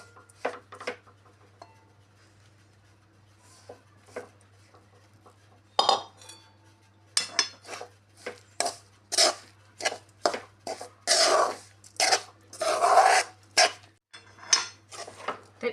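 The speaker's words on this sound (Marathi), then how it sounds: "आपण अगोदर हे सगळं मिश्रण एकत्र करून घेणार आहोत" Utensils scrape and clink against a pan while sesame barfi mixture is stirred together with sugar syrup off the heat, in sporadic bursts that grow busier and louder toward the end.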